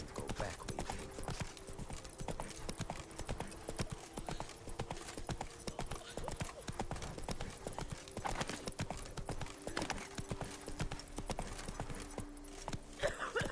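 Roach, the horse in The Witcher video game, trots along with a steady, fairly loud clip-clop of hooves throughout, a brief whinny or snort mixed in among the regular footfalls.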